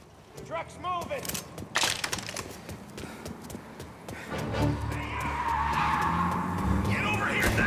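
A truck in Mafia: Definitive Edition moving off amid gunfight chaos, tires skidding and engine rising into a steady roar, with shouted voices and sharp bangs over the top.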